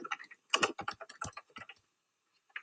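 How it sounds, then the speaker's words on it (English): Rapid keystrokes on a computer keyboard, a close burst of clicky typing that runs for under two seconds, falls silent, then ends with one last isolated key press. "Hit Enter on your keyboard,"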